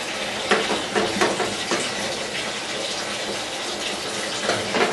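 Hot water running from a sink tap for soup making, a steady close rushing splash with small irregular surges throughout, heard alone.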